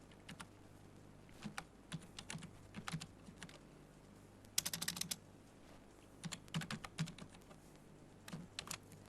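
Someone types an Excel average formula on a computer keyboard, with quiet clustered bursts of key clicks separated by short pauses and one denser flurry near the middle.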